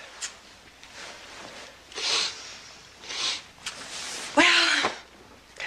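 A single sharp sneeze bursts out close by, preceded by a few soft breathy sounds and sniffs.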